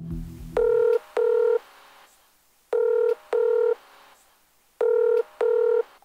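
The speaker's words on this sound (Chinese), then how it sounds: "呢一日，梅姐再尝试打电话俾丈夫王伯。" Telephone keypad tones dial a number in three pairs of two beeps, each pair separated by a quiet pause, as a woman tries to phone her husband.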